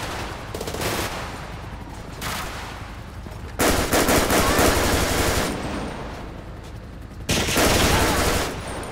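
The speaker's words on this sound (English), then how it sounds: "Bro, she is still shooting" Bursts of automatic gunfire from a shooter in GTA 5, loud rapid volleys in several waves with short lulls between them, set against ambient game noise.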